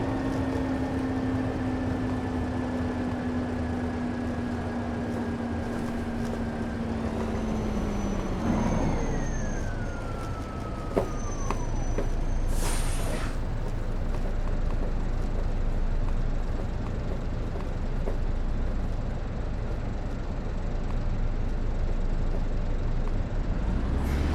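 A bus engine in the game OMSI 2 drones loudly and steadily, its pitch falling as it slows, then rising and settling again. A brief hiss of air brakes stands out midway.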